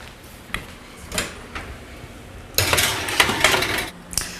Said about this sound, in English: I'm going to put them in the oven for 10 to 12 minutes or until nicely browned